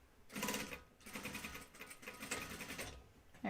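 A sewing machine stitches in close, rapid, chattering bursts of roughly a second each, with short pauses between runs and a faint squeak at the very end.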